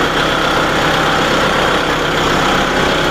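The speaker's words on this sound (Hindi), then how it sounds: "ट्रैक्टर को हमने RPM बढ़ाया, स्पीड बढ़ाई है" A Kubota MU4501 4WD tractor engine runs at raised RPM, giving a loud, dense, unbroken mechanical drone that holds steady from start to finish with no talk.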